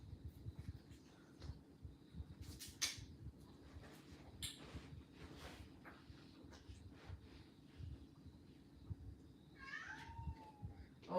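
Brucey the cat yowls and meows faintly from another part of the room, several drawn-out calls scattered over a quiet background, with one clearer rising meow near the end and faint other sounds in between.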